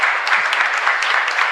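Congregation at a Mass in a chapel gives a strong round of applause, a dense, loud, even wash of many hands clapping with almost no voices.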